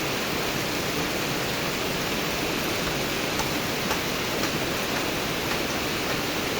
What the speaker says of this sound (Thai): ฝนตกละไปเก็บไม่ทันละ